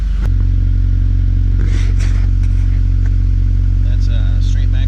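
A 1997 Acura Integra GS engine, which sometimes knocks and smokes, idles loud and steady through an exhaust running straight from the manifold to a glass-pack resonator and a Flowmaster 40 with a custom tip, with some clatter and faint voices in the background.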